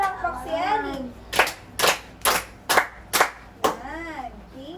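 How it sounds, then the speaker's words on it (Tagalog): A classroom of young students claps in a quick rhythmic burst of about five sharp, even claps for a classmate, with a voice speaking just before and after. "Bigyan naman natin ng 5 palakpak si Ellie."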